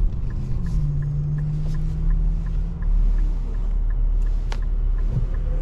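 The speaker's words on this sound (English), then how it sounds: "Nice shifts, kicks off real nice, gets the car up to speed." A 2022 Infiniti Q60 Luxe AWD accelerates on the road, a close, steady engine and road rumble with a rising tone early on and an even low hum throughout.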